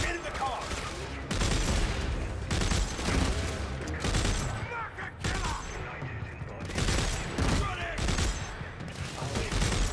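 Dense, loud gunfire from the Dead Space video game fires in rapid bursts with short gaps, and a voice talks intermittently underneath the shooting.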